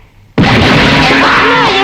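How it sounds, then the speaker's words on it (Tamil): A firecracker blast in a Tamil comedy film scene, a sudden loud burst after a brief lull that stays dense and roaring for over a second with a tonal whine riding through it. "வெடி வச்சுட்டான்"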